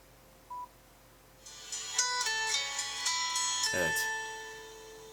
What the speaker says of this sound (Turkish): Nokia bu telefonda farklı bir başlangıç müziği kullanmış